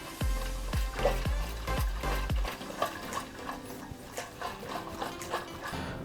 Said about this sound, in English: we actually need to shake for 1 minute